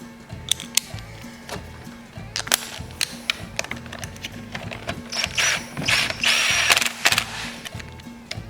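Ratchet with a short 5/16 socket tightens the carburetor screws on a Stihl chainsaw, clicking in close bursts of rapid pawl ticks with metallic clatter between strokes and no talk.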